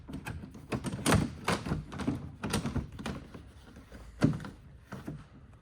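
Interior trim piece on a Lamborghini being pressed and knocked back into place: a series of close, hollow plastic thunks and taps in an irregular rhythm, with softer handling clicks between the louder knocks.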